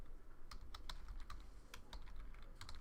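Rapid keystrokes clatter on a computer keyboard in irregular bursts while someone codes a Python password generator, with steady room hiss underneath.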